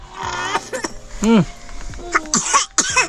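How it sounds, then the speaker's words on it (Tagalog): A person coughs or clears their throat a few times amid other voices and background noise, fairly close. "Ba't yun inuubo to?"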